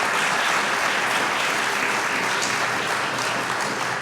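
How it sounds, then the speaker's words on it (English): A crowd at an annual meeting gives a sustained round of applause, dense and even clapping filling the room throughout at steady loudness. "Please join me in giving them a round of applause for their service."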